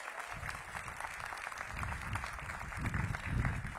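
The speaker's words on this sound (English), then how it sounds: "Bennett a big round of applause" An audience at a ribbon-cutting for the new DC Health headquarters in Ward 8 gives a round of applause, a soft, distant patter of many hands that swells gradually toward the end.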